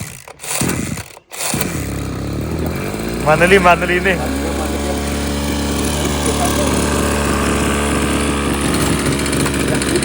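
A farm engine for an irrigation pump is cranked and catches, then settles into a steady, loud, continuous mechanical drone with a rattling, throbbing hum; people talk over the start and the running engine.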